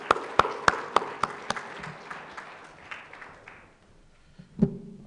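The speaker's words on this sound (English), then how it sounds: "Shall we applaud her once again," A small audience at a panel session applauds a minister: a few sharp, evenly spaced claps at first, then a thinning, scattered patter that fades out, with one last loud clap near the end.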